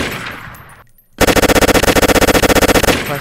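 Rapid automatic gunfire from a gun with red tracer rounds in a Roblox game, a loud steady burst of evenly spaced shots starting suddenly after a moment of near silence and running to the end.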